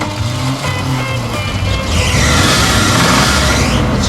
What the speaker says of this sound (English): It's just a little fan belt squeal.